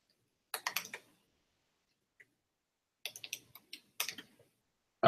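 Computer keyboard typing comes in short, quick bursts of close, crisp key clicks separated by pauses, with no voices.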